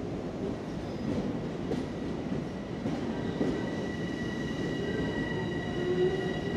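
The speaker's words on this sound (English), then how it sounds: "this is a Long Island Railroad train and it's going to the train yards" A Long Island Rail Road train rolls toward the rail yards beneath Hudson Yards, a loud, steady rumble with faint wheel squeal and rhythmic clatter throughout, and no voices.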